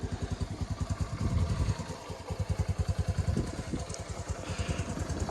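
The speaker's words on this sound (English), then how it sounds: "I can start the bike and warm it up just like that" A 2022 Honda Navi motorcycle engine idles close by while warming up, with a steady, rapid low chugging pulse and faint mechanical clatter, running continuously without revving.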